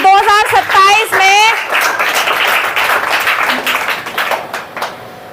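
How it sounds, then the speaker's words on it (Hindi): Applause and clapping from a crowd at a Bahujan Samaj Party political rally in Khurja, a dense wash of claps building after a voice, then gradually thinning toward the end. "तो उस चमत्कार के लिए जोरदार तालियों से अभी से स्वागत करिए"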